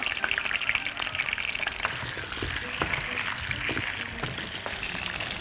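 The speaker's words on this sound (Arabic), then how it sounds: "البصل برضو كده يتشوح" Onions sauté with garlic cloves in hot ghee, giving a dense, continuous crackling fry close up, with faint scraping and occasional light clicks throughout.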